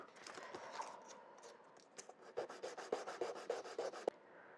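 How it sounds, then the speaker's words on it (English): Wood being sanded by hand, irregular rubbing at first, then a steady run of rhythmic rasping strokes, close and clear. "In fact, I could probably get that by sanding."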